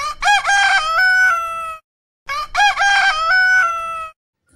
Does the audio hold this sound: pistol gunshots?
no